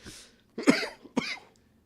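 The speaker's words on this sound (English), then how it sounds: "you're going to be coughing for a minute?" Two harsh, hacking coughs a half second apart, close by, after a faint breathy sound, then quiet.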